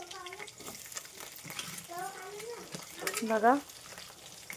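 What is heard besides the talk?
onion frying in a pan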